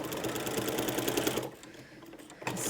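A sewing machine stitching fabric for a cushion: fast, steady mechanical chatter for about a second and a half, then it slows and stops briefly before restarting, quiet and close.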